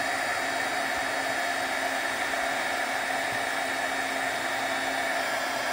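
A heat gun blows steadily on autumn leaves, a continuous loud hissing roar of hot air that holds even and unbroken throughout, with no voices.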